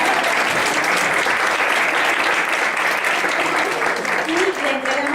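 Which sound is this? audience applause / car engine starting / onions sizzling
audience applause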